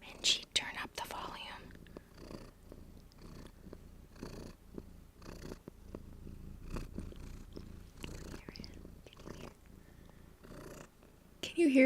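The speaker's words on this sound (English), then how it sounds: "Can you hear her purr?" A female house cat purrs close up in a quiet room, a soft, steady low rumble running continuously with faint breathy sounds and light rustles over it.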